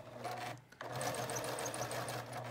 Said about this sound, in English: So basically you're just gonna sew all the way down.